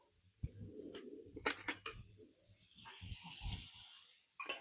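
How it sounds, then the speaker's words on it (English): A spoon stirs food in a HexClad non-stick pan, giving faint clinks and scrapes that give way to a soft, spreading sizzle-like hiss, all close and quiet. "Let me grab a spoon to stir that up."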